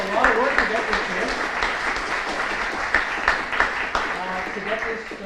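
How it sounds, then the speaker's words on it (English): An audience at the Victoria Festival of Authors, a writers festival, applauds in a dense, continuous wash of clapping, with voices talking faintly beneath it. "So big round of applause."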